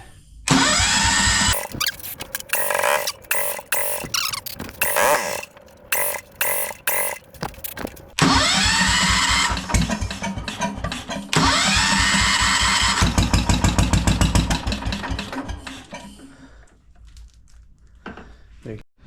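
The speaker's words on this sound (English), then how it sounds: "It'll only stay running with starter fluid." Kohler 10 hp small engine cranks repeatedly on its starter, then catches on starter fluid and runs loud and rough in bursts before sputtering and dying, close up with voices talking at times.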